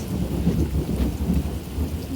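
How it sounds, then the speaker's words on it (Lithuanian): Steady rain pours down continuously by a shelter where chickens are kept, a dense wash of patter with deep low rumble underneath, close and fairly loud throughout. "viskas lyja"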